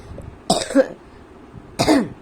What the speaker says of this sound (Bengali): ভীষণ কাশি হয়েছে